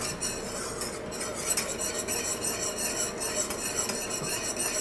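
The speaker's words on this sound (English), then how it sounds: "So whisk it all up until all of the lumps are gone and it looks all smooth." A whisk scrapes and clinks rapidly against a pan as cheese sauce is stirred, a continuous close-up metallic swishing with no voices.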